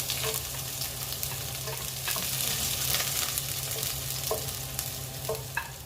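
Garlic fries in hot oil, giving a steady, close sizzle with a few faint stirring clinks, continuous and unbroken, with no one speaking.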